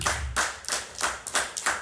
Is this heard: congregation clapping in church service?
yes